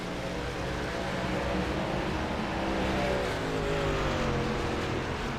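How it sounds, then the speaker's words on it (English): Race truck engine at Darlington during an SERL truck series race, a steady loud roar that sounds rough and unhealthy as it passes, with a broad mechanical drone throughout. "That truck doesn't sound very healthy as it went by."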